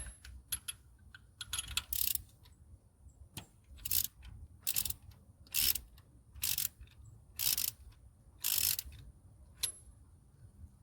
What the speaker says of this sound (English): Let me loosen that nut up real quick.